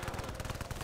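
Rapid automatic fire from a turret machine gun in Call of Duty: World at War, a steady stream of close, evenly spaced shots over less than a second.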